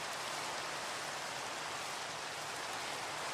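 Steady rain in Minecraft, a dense even hiss of falling water with no breaks, moderately loud and alone.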